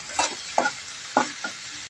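Onions and potato pieces with turmeric and salt are stirred in a frying pan: four distinct scraping strokes of a spatula over a soft, continuous sizzle, close and clear.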